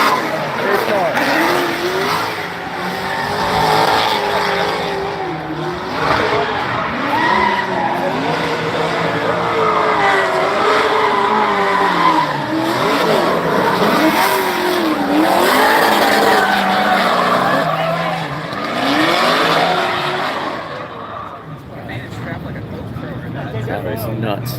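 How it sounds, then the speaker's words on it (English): A race car engine roars almost without a break, its pitch rising and falling through the gears, while tires squeal and skid again and again. The car sounds close and loud, and voices talk over it before it fades near the end. "race car."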